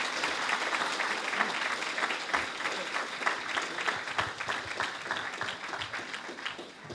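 Audience applause at the East London Mosque's Muslim Community Service Awards as the community cohesion runner-up is called up, a steady round of many hands clapping at moderate volume that tapers slightly at the close.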